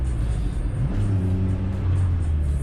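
A car engine running on WD-40 revs steadily and loudly, a sustained low rumbling drone with a rising pitch sweep near the start, heard up close throughout with no talking.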